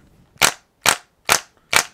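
Four evenly spaced, sharp mechanical clacks from the built-in recoil of a Sinden light gun during Big Buck Hunter arcade play, loud and close with silence between each shot.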